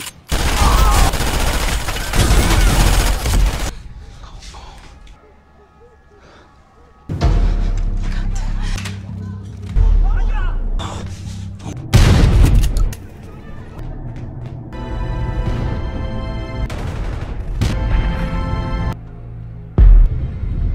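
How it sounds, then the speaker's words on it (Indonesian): Heavy gunfire exchange in an action film: dense bursts of shots and booms in loud clusters, separated by brief quieter stretches, with a few sharp single blasts near the end. "Dalam hitungan detik, tembak-menembak terjadi."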